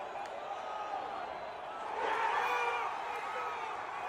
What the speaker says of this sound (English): Listen to the roar of the crowd when this field goal was blocked